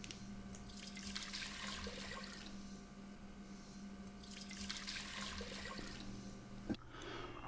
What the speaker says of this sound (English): So we'll start off by adding 4 cups of white distilled vinegar and 1/4 cup of water.